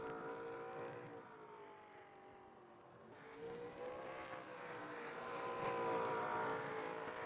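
Race car in the Red Bull Racing Series at Canadian Tire Motorsport Park (Mosport) sweeping through turn 9 with three laps to go, a steady engine drone with shifting harmonics that swells louder as it passes, distant and continuous.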